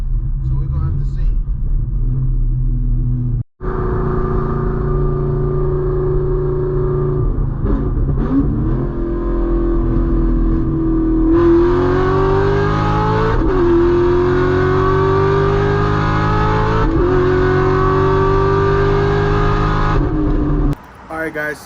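A Corvette ZR1 with its exhaust removed, driven at full throttle: a loud, close, continuous engine roar whose pitch climbs through several gear shifts, then drops off abruptly near the end.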